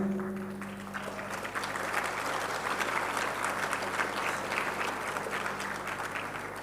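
An audience gives sustained applause during the closing session of a church gathering, a dense, steady clatter of many hands lasting several seconds at moderate volume, without cheering or words.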